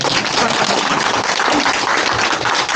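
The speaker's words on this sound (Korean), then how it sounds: "이 대목에서 박수 한번 치시죠" Audience at a political town-hall meeting breaking into steady, loud, dense applause that runs the whole short stretch without a break.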